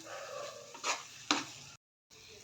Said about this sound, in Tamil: கரண்டி வச்சு இந்த மாதிரி மசிச்சு மசிச்சு விட்டு கிண்டிக்கோங்க